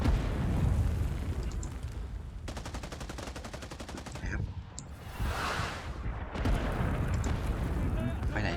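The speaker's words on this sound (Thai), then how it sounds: "เนี่ยระเบิดลงแล้ว" Video game combat in Rising Storm 2: Vietnam, with rapid gunfire bursts and a booming bomb explosion, dense and continuous, with a voice talking over it.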